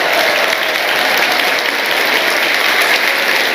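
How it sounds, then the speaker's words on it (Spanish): Steady audience applause welcoming a performer onto a stage at a small bodega venue, a dense unbroken wash of many hands clapping at constant loudness throughout. "¡Aplauso! Aquí lo dejo con Ailín Zamora."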